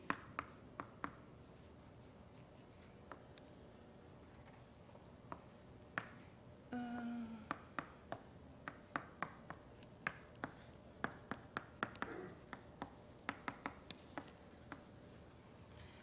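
Chalk or a marker taps and scratches in quick irregular strokes on a board during a mathematics lecture, faint and somewhat distant in a room.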